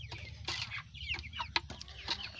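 Several Kadaknath chickens cluck in short, irregular bursts close by, a soft low rumble underneath.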